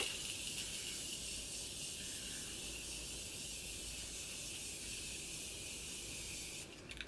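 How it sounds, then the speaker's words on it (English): Morphe Setting Mist sprays onto a face as a steady, close, continuous hiss of fine mist lasting several seconds, with no talking. "to finish this makeup, we're gonna go in with the Morphe Setting Mist"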